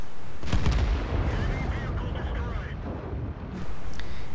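An artillery shell strikes a tank in a tank battle video game, giving a loud sharp blast followed by a rumbling, noisy wash, with a voice talking over it.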